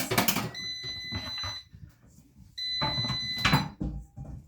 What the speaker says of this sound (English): And our air fryer is ready.